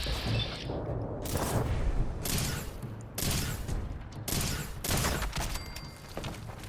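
Gunshots in the post-apocalyptic game Fallout 4 ring out in a rapid, irregular string of sharp, loud cracks over several seconds, with no talking.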